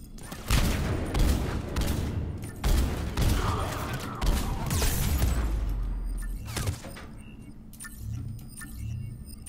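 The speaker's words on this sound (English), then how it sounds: "I'm just going nuts with this gun" Bursts of rapid gunfire from a gun in Mass Effect 3, loud and close, with several dense volleys through the first six seconds before it thins out into quieter low rumbles.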